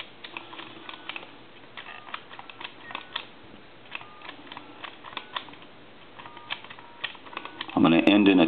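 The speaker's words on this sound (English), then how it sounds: "I want to go ahead and dial all the numbers." Digits dialed on a Princess telephone make a steady run of small clicks and ticks, close and fairly quiet, with a voice starting at the end.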